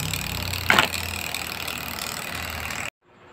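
A spin dryer motor with a faulty capacitor hums steadily and loudly for about three seconds, with one brief knock partway through, then cuts off abruptly into near silence.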